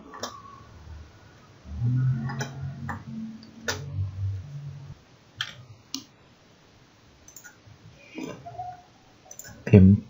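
Computer mouse clicks come as sharp, isolated ticks scattered across the stretch while LTspice circuit simulation software is in use, mixed with low background thumps and muffled noises.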